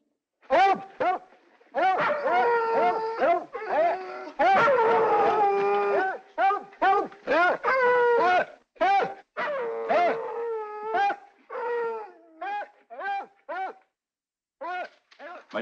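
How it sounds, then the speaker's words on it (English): Several dogs howling and whimpering at night, long rising and falling wails overlapping with short whines, fairly close and continuous with brief pauses between cries. "My dogs are very restless tonight."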